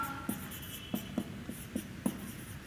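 Chalk or marker strokes tap and scrape on a board as notes are written, producing a series of short, crisp, evenly spaced ticks, close and fairly quiet with no talk over them.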